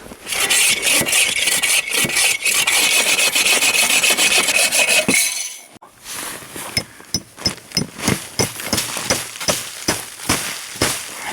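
Wooden legs of a quad pod for a winter hot tent being trimmed by hand: about five seconds of steady, loud rasping sawing, a brief pause, then a run of separate, rhythmic scraping strokes.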